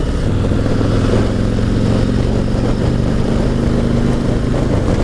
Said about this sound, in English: this bike has no problem getting up to highway speeds with that new 114